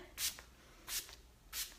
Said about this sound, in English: I'm going to top it off with another little round of setting spray